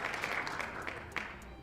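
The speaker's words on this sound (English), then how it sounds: "How about a round of applause for the effort there?" Brief, faint applause during a Yankees vs Rays baseball postgame fan show: a steady wash of clapping with no voices over it.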